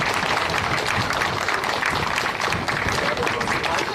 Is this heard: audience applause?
yes